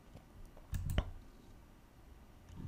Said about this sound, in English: So I'm just gonna click install.